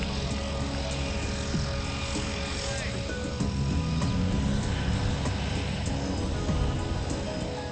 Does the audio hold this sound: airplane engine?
yes